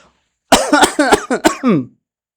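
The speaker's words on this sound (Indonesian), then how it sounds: "Kok malah saya yang batuk ya?" A rapid string of close, loud coughs, about six hacking bursts in quick succession, trailing off into silence.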